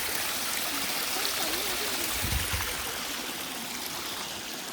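Mountain stream water rushes near Jogini waterfall in the Manali hills, a steady loud broadband flow with no voices.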